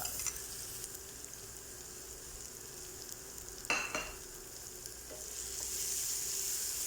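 Chopped banana fries with cashews and almonds in a pan, making a soft, steady sizzle with one brief spatula scrape midway and a slightly louder hiss at the end.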